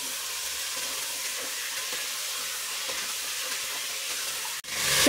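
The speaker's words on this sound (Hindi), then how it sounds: "चार से पाँच मिनट के लिए हमें अच्छी तरह से अदरक लहसुन और प्याज में से भून लेना है।" Ginger, garlic and onion frying in a pan for Kabuli pulao, a steady, close hiss and sizzle held throughout with faint crackles, briefly cut off near the end before the sizzle swells again.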